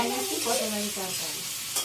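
A soft, continuous sizzle of sliced brinjal and okra frying in a pan, with faint harmonic voices murmuring underneath.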